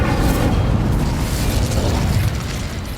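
Incendio fire spell cast in the video game Hogwarts Legacy, a loud, dense roaring burst of flame and rumbling impact that holds steady for about three seconds.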